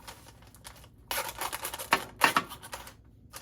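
A knife slits raw chicken wings on parchment paper laid over a broiler pan, making a few crisp, rustling paper crackles and short scraping cuts, close and fairly loud, with no talking.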